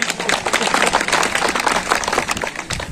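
Audience applause at an Urdu poetry recital, a dense, steady patter of many hands clapping throughout, fairly loud and close with a little crowd murmur mixed in.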